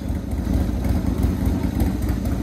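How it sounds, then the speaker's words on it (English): A 1996 Buell S1 Lightning engine idling close by, a steady, loud, loping rumble with a rough pulse. "let it idle for a minute or two, warm up good"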